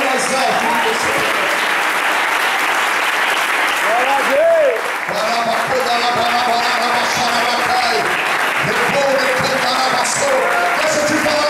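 Church congregation applauding loudly and steadily, with shouting and cheering voices mixed into the sustained clapping throughout.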